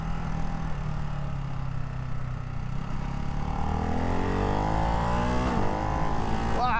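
A 2024 Ducati Hypermotard 698 Mono RVE single-cylinder motorcycle accelerates hard on the road. The engine note climbs steadily in pitch through the gears, loud and close, with wind noise throughout.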